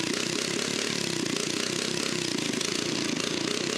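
A small engine on a restored wheeled toilet vehicle idles at stable revs, a steady buzzing, rapidly pulsing drone that stays loud and close without any pause.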